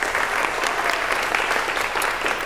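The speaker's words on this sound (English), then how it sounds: "Round of applause" A round of applause fills a session room at a sculpture-garden workshop day, steady dense clapping from a group that holds at even strength throughout, with no voices on top.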